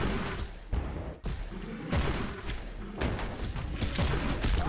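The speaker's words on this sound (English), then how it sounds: "I'm going to try out this Arcane Launcher." Arcane Launcher weapon in the video game Darkest Depths firing several loud, punchy thudding blasts in quick succession over a busy game soundscape, with no talking.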